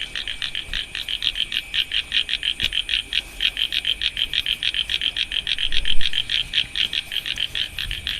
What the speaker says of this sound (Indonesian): Itu kataknya ketawa